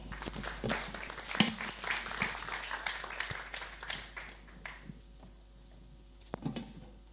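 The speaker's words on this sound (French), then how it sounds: "M. Pierre Cazel, sous applaudissements, s'il vous plaît" Applause from a crowd, steady clapping that thins out and tapers off toward the end, with a few scattered claps.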